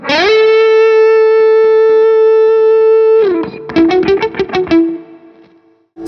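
An electric guitar through a Marshall amp with overdrive and a bit of reverb sustains one long distorted note, then chops out a quick run of staccato notes that fade into the reverb tail.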